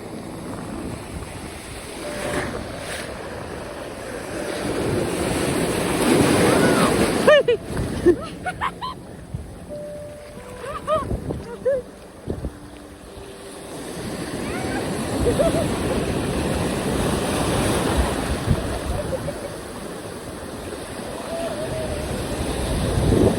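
Ocean waves surge and break around a boat at Mousumi Island, with rushing water and wind buffeting the microphone, a quieter stretch in the middle, and voices faintly audible among the roar.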